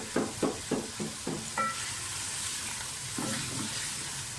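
Potatoes and tomatoes sizzling in a pan for aloo dum biryani, with a few sharp stirring scrapes at the start and again near the end over a steady soft frying hiss.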